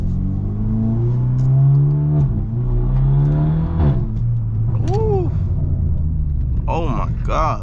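A tuned BMW F30 engine drones loudly and climbs in pitch as the car accelerates, then shifts and pulls again under a steady road rumble, with a person talking over it in the cabin.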